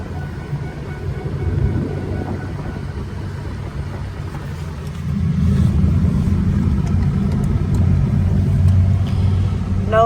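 A 2004 Ford F350 Dually 4x4 with the 6.0 Powerstroke diesel drives along with a steady low engine drone and road rumble that swells louder about halfway through, with no voices.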